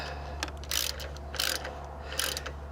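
A ratchet clicks in three short bursts while tightening the plastic hold-down on a car battery. The clicks are close and crisp over a steady low background hum.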